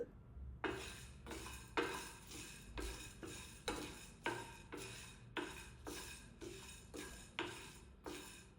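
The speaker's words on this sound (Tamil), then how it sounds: "இது எல்லாத்தையும் போட்டு நல்லா வணக்கி விடுவோம்." Chicken masala varuval being stirred and sautéed over a low flame, a spoon scraping the pan in a regular rhythm of about a dozen soft strokes, quiet and close.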